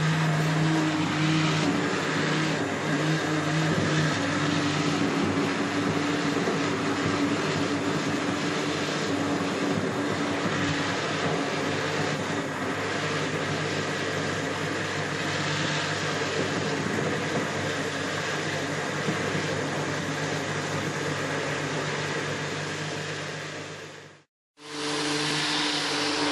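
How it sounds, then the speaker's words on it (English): Stick blender whirring steadily through potato and leek soup, close and loud for over twenty seconds, then cutting out briefly and starting again, with no talking. "You need a stick blender really to blend your soups."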